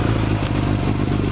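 A 2002 Suzuki Bandit 600 motorcycle engine turns over and catches, running as a close, low, uneven rumble with rapid clattering pulses. The burst is brief, with no voices.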